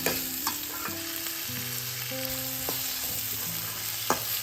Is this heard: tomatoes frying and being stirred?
yes